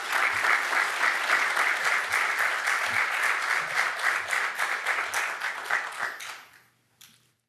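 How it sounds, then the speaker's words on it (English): Dense, sustained applause from a large audience at a State of the City address in Columbia, Missouri, honoring the fire department, holding steady for about six seconds before thinning out, with one stray late clap. "Let's give our fire department a round of applause."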